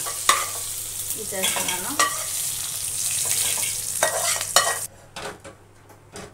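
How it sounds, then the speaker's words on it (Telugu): Red chillies, coriander and cumin dry-roast in a pan with stirring scrapes and light crackling, up close, then the sound thins out near the end; someone speaks briefly. "చూడండి, బాగా వేగాయి మిరపకాయలు, ధనియాలు, జీలకర్ర"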